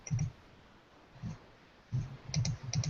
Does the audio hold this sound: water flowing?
no